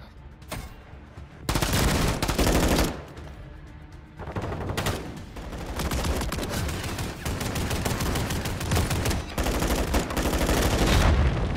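Heavy automatic gunfire from Modern Warfare multiplayer, with a TAQ Evolvere in play: dense, loud bursts of rapid shots that fill most of the stretch, broken by a few brief lulls.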